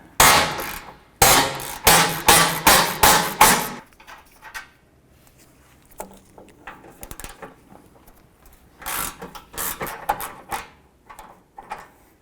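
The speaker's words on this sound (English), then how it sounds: "I'm going to switch over to a ratchet for now just to break these free." A ratchet breaking loose the bumper impact beam bolts on a 2009-2015 Honda Pilot, heard as rapid bursts of loud metallic clicking, then quieter scattered clinks and a second run of clicking, all close up.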